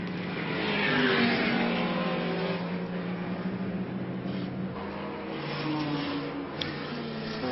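Classic racing cars, including a Jaguar E-Type and Gavin Henderson's AC Cobra, race into Madgwick corner on circuit in a Graham Hill Trophy race, a steady loud engine roar with sustained droning tones throughout.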